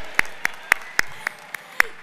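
Sparse, separate handclaps ring out at an awards ceremony for a council highways team, roughly eight sharp claps at an even pace rather than a full audience ovation, with a faint murmur between them.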